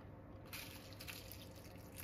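Faint, steady trickle of water poured into a small tub of crepe paper dye, a soft continuous splash with light dripping, quiet and close with no talking.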